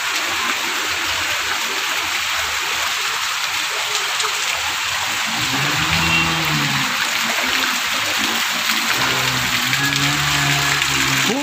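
Floodwater rushes across a submerged village road in Maharashtra after heavy rain, a steady broadband wash of flowing water throughout, with a low droning sound joining partway through.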